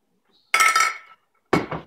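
Gluten-free noodles dumped into a mostly empty pressure cooker pot for a pasta casserole, heard as two short rattling clattering bursts, close and fairly loud, with a pause between them.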